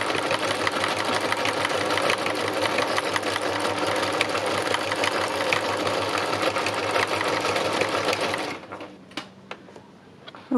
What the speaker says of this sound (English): So let's get my sewing machine turned on.